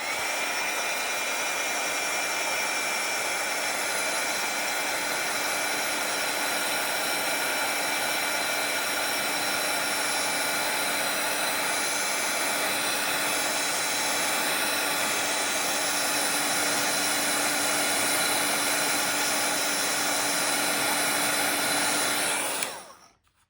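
A hair dryer blows steadily to dry wet paint on a calm wave painting, a loud continuous whoosh with a constant whine that runs alone for about 23 seconds before cutting off abruptly at the end.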